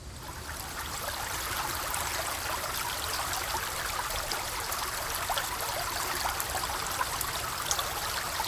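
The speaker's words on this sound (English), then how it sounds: "We're heading for a nearby little stream for the night." A small stream flows with a continuous, soft babbling trickle, steady and moderately quiet throughout, with no voices.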